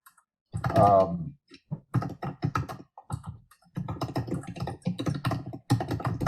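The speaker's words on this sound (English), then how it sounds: "Somebody's keyboard is very loud." Rapid, loud keyboard typing clatters in bursts of clicks with brief pauses, close and dominant throughout.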